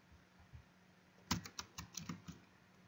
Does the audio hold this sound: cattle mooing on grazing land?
no